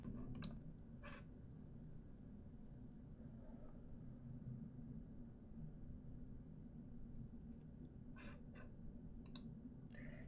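A computer mouse clicks faintly over a low steady hum: a pair of clicks at the start, a few more just after, and a cluster near the end. No one talks.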